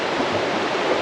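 River water flowing steadily in a steady, full-bodied rush with no breaks, close and constant, at a walkable river in a gorge setting in Turkey.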